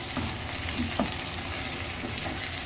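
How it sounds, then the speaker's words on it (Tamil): Onions frying in a pan toward a light golden colour for a ghee-scented brinjal and drumstick thokku, giving a steady close sizzle with a few soft stirring scrapes and no voices. "இந்த அளவுக்கு நம்ம வறுத்துட்டா போதும்"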